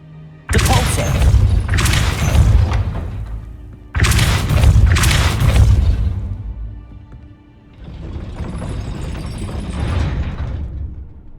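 The Depulso force spell is cast in the video game Hogwarts Legacy: two loud, sudden blasts that each roll into a rumbling, decaying whoosh, then a softer sustained whoosh that swells and fades.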